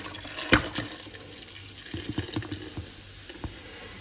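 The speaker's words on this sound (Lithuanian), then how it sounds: "Tada pilam alų." Beer poured into an Afghan kazan while cooking sweet-and-sour duck, giving a short liquid splash and bubbling pour near the microphone, with a few soft clinks and sizzle after.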